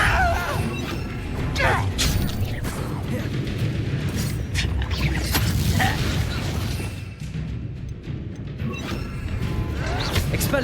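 Blasting Confringo spell impacts crash and boom through a hectic Hogwarts Legacy duel, mixed with other spell effects in a dense, continuous barrage of bursts, crackles and rumbles at steady loudness.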